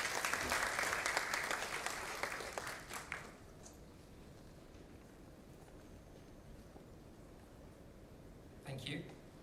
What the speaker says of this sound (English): help me to welcome her with a big round of applause.